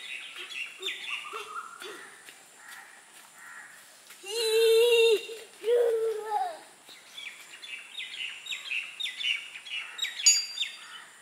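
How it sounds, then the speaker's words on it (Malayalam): A kite chick gives repeated high chirping calls, with a louder burst of harsh cries in the middle, heard outdoors at moderate distance. "പരുന്ത്, പരുന്തിൻ്റെ കുഞ്ഞാണ്"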